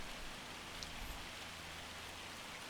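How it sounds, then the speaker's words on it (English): Hail falling in the Farming Simulator 25 video game, a steady dense patter of ice striking surfaces that holds evenly for the whole stretch, with no voices. "And it just had to start hailing"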